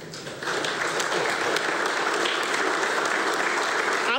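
An audience applauds at a police chief's swearing-in ceremony as the police chaplain is welcomed. The clapping is steady and full, swelling after a brief start and holding at an even level throughout.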